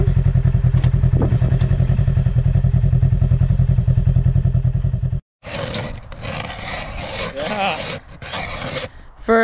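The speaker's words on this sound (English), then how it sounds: "first hole getting drilled" A powered ice auger bores a fishing hole through lake ice, a loud rough engine roar holding steady for about five seconds, then a brief drop and bursts of clattering, churning noise as the bit chews through and slush spills out.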